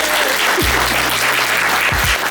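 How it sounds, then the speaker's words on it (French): Loud, dense applause from a conference audience in Paris fills the whole short stretch as a steady wash of clapping, with a couple of brief low thumps partway through. "Est-ce qu'on peut encore l'applaudir par rapport à ça?"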